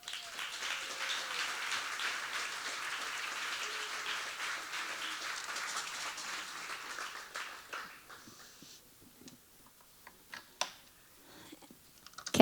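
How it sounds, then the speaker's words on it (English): Sustained audience applause fills a memorial celebration of life, dense steady clapping for several seconds before thinning out to scattered claps and quiet. "I know there's a lot of clapping going"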